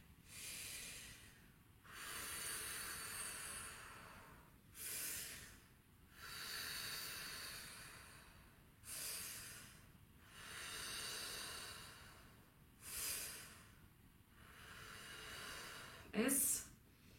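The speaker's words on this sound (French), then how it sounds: "Déposer les mains sur le ventre et on va respirer." Slow deep breathing exercise with hands on the belly during a singing lesson: about five long, audible inhale and exhale cycles, each a soft airy hiss, close and quiet.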